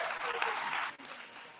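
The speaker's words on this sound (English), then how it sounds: "clap it up for her" Crowd applause at a 2022 institute commencement ceremony, moderately faint and uneven, with a brief dip midway and some voices mixed in beneath the clapping.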